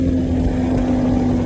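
A 2024 Polaris Indy Adventure 137 snowmobile with the ProStar S4 four-stroke engine running in sport mode, a loud, steady engine drone held close and even throughout.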